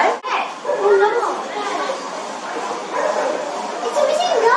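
Dogs at an animal shelter give yips and whimpering barks under people talking, a brief sharp knock near the start, the yelps recurring through a busy background.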